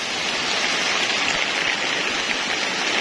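Steady rain falls in Camarines Sur, Bicol, during Typhoon Kristine, a dense continuous hiss with no breaks and no voices.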